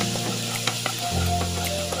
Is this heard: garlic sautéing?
yes